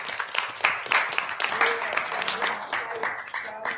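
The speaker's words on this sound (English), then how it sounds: "So a round of applause." A small audience claps at the close of a University of Minnesota Board of Regents audit committee meeting, scattered uneven hand claps at moderate level with some murmured talk mixed in.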